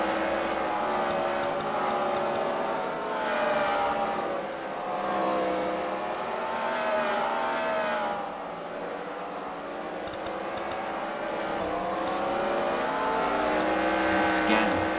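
Race cars circle a track at a racing event, their engines droning and swelling in waves as they pass, at moderate distance, with a commentator talking over them throughout.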